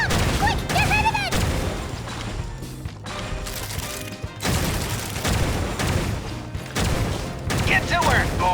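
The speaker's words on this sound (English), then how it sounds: "Take this! Ah! It's a bomb!" A bomb goes off during a Genshin Impact story quest at Sunspray Summer Resort, loud crashing blasts and bursts of impact noise under excited character voices, with a short lull near the middle before the commotion resumes.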